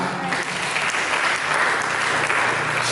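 A church congregation applauds at a sermon by a pastor, steady dense clapping from many hands that fills the whole moment at an even, sustained level without a break.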